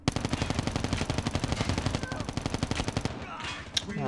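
Rapid automatic bursts from the Cordite, a weapon in Call of Duty Mobile, loud and close in a steady stream of shots for about three seconds, then a brief pause and a single later crack.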